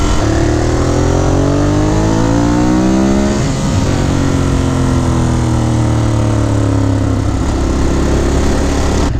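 A Ducati Monster 821 engine with stock exhaust idles and revs steadily, its pitch rising and falling in smooth sweeps, loud and close throughout with no voices.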